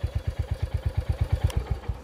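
A 2023 Royal Enfield Hunter 350 engine idles up close, its single-cylinder beat a loud, even thump repeating roughly six times a second with no talk over it.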